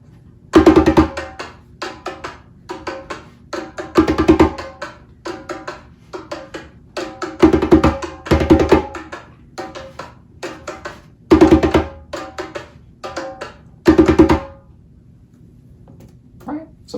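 A hand drum is improvised over a groove, mixing sharp open tones with deep bass strokes in a syncopated pattern with recurring loud accents, close and clear, and a quiet tail at the end.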